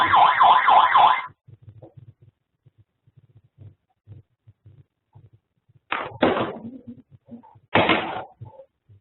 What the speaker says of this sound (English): you've got two options of sound. And gone, or the more annoying alarm system